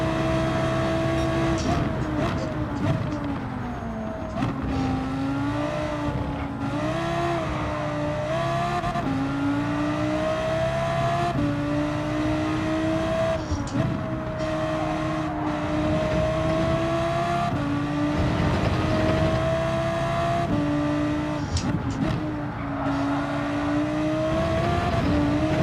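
Race cars in Gran Turismo 7 drone continuously at high revs, engine pitch rising and dipping with gear changes and cornering through a long online race, loud and close with no talk.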